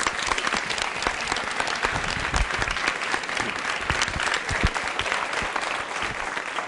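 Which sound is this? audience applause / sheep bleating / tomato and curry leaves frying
audience applause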